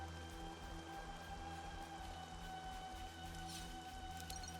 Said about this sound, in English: And then it rains.